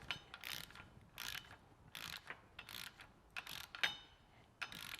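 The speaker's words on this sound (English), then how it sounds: "So we're going to use a torque wrench, set it to 35 foot-pounds" A torque wrench draws in the bolts of a Wilwood axle retainer plate, set to 35 foot-pounds, giving a series of close, quiet ratcheting clicks in short bursts with brief pauses between them.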